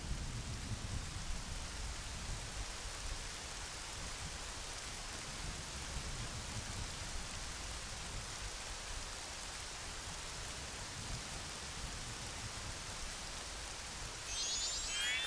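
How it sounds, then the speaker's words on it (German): Video game rain from Zelda: Majora's Mask, a steady, even hiss of falling rain that runs unbroken at moderate loudness with no voices. "Aber der Regen, der sah schon immer gut aus."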